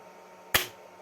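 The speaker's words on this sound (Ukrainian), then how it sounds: "автомат кляцнув, релюшка це запрацювала" A 60 amp-hour battery automatic transfer switch setup with a 5-volt relay gives a single sharp click as the breaker trips and the relay engages, close and fairly loud over a quiet room hum.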